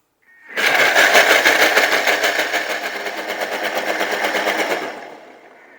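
A loud, harsh whirring roar of a Thermomix at speed 8 blending soy milk, starting abruptly, holding steady with a rapid rattling pulse, then winding down.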